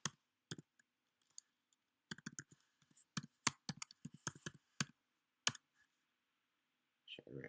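Bursts of crisp clicks from a computer keyboard as a password is typed at a login, tapped in quick irregular clusters with short pauses, close and fairly quiet, with no talk.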